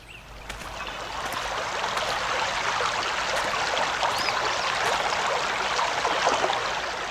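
Brook water in the game Anna – Extended Edition runs in a steady, full rushing stream with gurgles and trickles, swelling slightly in the first second and then holding close and constant.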